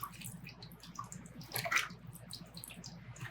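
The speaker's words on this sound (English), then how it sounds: "flood the wheel head with water around the pot" Water floods the wheel head around a pot on a potter's wheel, a close, continuous splashing and dribbling with a brighter gush in the middle and no talking.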